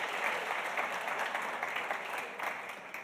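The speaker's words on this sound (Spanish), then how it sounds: "Adelante, aplausos para él" Steady audience applause at a cybersecurity conference on finance, sustained dense clapping from a crowd throughout, fairly close and even in loudness.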